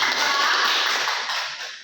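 A small class claps for a student named Latifah during a peer-teaching Indonesian language lesson, a brief, dense burst of hand claps close by that fades out over about two seconds.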